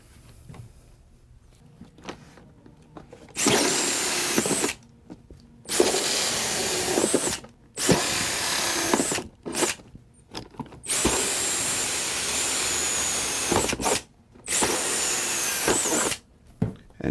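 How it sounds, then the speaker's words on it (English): Repeated bursts of a power drill boring ventilation holes through the side and back of a FatMax airbrush case, about six loud, steady whirring runs of one to three seconds each, separated by short quiet pauses, with no talking. "we're going to put holes along the sides on each side and 2 holes in the back to allow the air to flow through"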